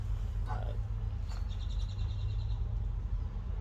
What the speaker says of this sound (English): You hear all the birds and stuff in the background too.